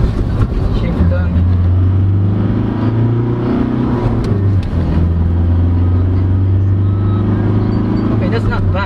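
A 2022 Maxus T60 pickup engine on a highway drops a gear and accelerates, its loud cabin drone climbing steadily in pitch over several seconds after a brief dip at the shift.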